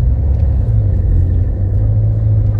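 A 2014 Toyota Etios Cross diesel car with about 117,000 km on it climbs a steep hill in second gear, its engine drone loud, steady and close, with a heavy low rumble throughout and no voices.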